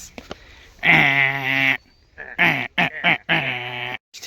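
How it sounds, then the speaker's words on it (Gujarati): Two long, loud, tonal lowing calls from a water buffalo close by, the second broken into shorter bursts, with brief pauses between. "ભેંસ"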